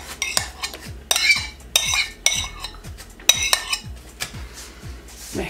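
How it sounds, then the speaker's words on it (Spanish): A utensil mixes beaten eggs with Greek yogurt in a bowl for a yogurt sponge cake, making a rhythmic series of clinks and scrapes against the bowl, close and steady. "Mezclamos un poquito."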